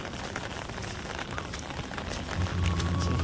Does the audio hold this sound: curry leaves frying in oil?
no